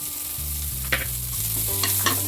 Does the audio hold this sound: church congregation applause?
no